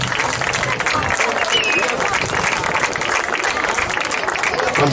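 Sustained, loud applause from an audience at a handball trophy presentation ceremony in Moaña, dense clapping filling the whole stretch without pause.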